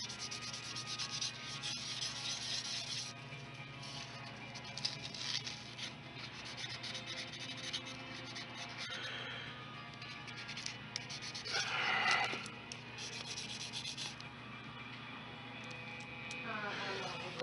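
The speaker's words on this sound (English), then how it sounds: "Now I'm using a 600 grit sandpaper," A pistol holster is hand-sanded with 600-grit wet/dry sandpaper, a soft, close rubbing and scratching that runs steadily under a low background hum.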